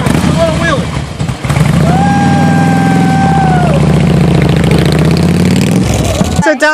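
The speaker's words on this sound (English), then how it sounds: "Kevin, it's a little wheelie." Motorcycle engine roaring loud and close during a wheelie on a December bike ride, with a sustained rising rev that holds and then drops away, while people talk over it.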